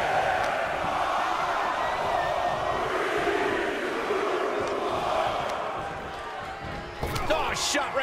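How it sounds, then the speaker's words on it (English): Arena crowd at a wrestling match in the video game WWE 2K23 roars and chants loudly and continuously, with a sharp burst of impacts near the end. "The crowd is counting it down"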